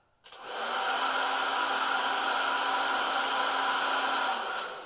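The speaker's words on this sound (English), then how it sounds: "I'm going to show you guys my pretty standard old hair dryer here, so you can see what kind" An old hair dryer switches on and runs steadily with a loud, constant whooshing roar and a faint motor hum, then starts winding down at the end.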